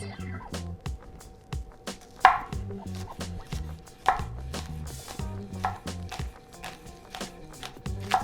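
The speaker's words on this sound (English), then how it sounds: "take a firm grip on the base of your knife, line up your onions, and then use a circular motion to cut thin rings" A knife slicing green onions into thin rings on a cutting board: a steady run of crisp, close chops in quick rhythm, each with a dull board thud, with no talking over it.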